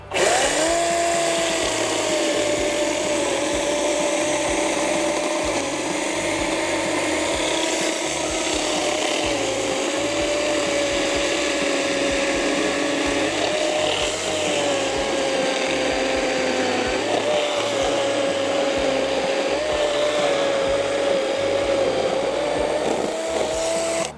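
Cordless Litheli chainsaw cutting into a dry, seasoned wooden stump: a loud, steady high-pitched motor whine with a rasping chain bite that holds unbroken for the whole stretch, close to the listener.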